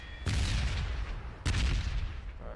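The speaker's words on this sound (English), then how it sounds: "Who's shooting guns, man?" Two loud bursts of gunfire in the PUBG battle royale game, each a sharp broadband blast with a booming low tail, the second arriving about a second after the first, with no talk over them.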